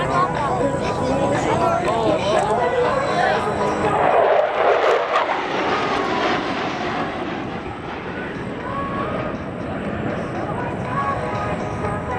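USAF Thunderbirds jets roar overhead in formation at an air show, the engine noise swelling to a loud peak as they pass close by and then fading to a steady rumble, with crowd babble and an announcer's voice underneath.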